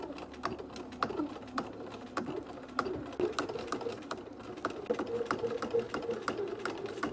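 A sewing machine stitches close to a folded fabric edge in quick, rhythmic bursts of clicking, fairly faint, with pigeons cooing softly in the background.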